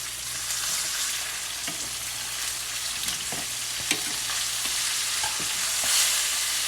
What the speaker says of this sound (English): That's frying some good and frying some fast